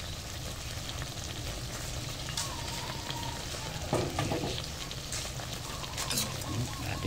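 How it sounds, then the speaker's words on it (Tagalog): Pork with seasoning being stirred in a hot pan, a steady sizzle and frying crackle with occasional scraping clatters of the utensil against the pan, close and moderately quiet. "Halu-haluin po natin para manuot po yung ating pampalasa doon sa karne ng pork"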